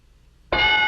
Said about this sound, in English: I was a little slow with the bell.